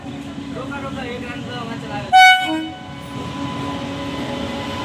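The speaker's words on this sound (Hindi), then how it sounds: "देखिए अभी ट्रेन आ गया है पास।" A passenger train pulls up at a station platform in Bakhtiyarpur, Bihar, rumbling steadily close by under a busy crowd murmur and voices, with one short loud horn blast midway.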